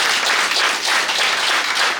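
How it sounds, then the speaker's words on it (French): A church congregation applauds together, a thick continuous wash of clapping from many hands, loud and even across the short burst with no talking on top. "Est-ce qu'on peut applaudir le Seigneur parce qu'il nous a amenés à la fin?"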